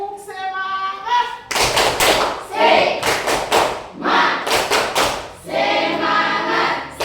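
A classroom of children performs a rhythmic group clap in bursts of sharp, loud, unison claps in a set pattern, with a teacher's voice speaking and chanting between the clapping phrases.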